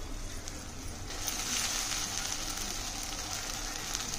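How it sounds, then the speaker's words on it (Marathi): Masala sizzling in hot oil in a pan while being roasted for a drumstick (shevga) curry, a steady close crackling hiss that swells slightly midway and carries on alone without talk. "तेल सुटेपर्यंत आपल्याला भाजून घ्यायचं आहे"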